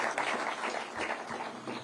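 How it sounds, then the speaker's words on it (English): Soft, steady applause from an outdoor ceremony audience at a Nairobi arboretum, a continuous faint patter of many hands lasting a couple of seconds. "So we need to give that Jogoo a round of applause."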